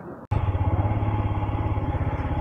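A motorcycle engine idles after a sharp start, its steady rapid thumping loud and close throughout, while being parked at a hotel at the end of a long ride from Ladakh to Chandigarh, India.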